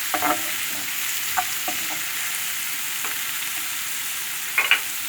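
Onions and sucuk sausage sautéing in a pan for menemen, a steady broadband sizzle running throughout with a few sharp spatula scrapes and clinks of stirring, close and moderately loud, no voices.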